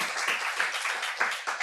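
A church congregation at a Monday revival service applauding together, a short burst of dense, even clapping with a couple of louder swells, no talk over it.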